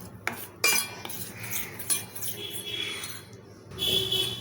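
Ghee Mysore pak mixture being stirred in a pan at home, with a metal spoon clinking and scraping against the pan in irregular close strokes, with no talking.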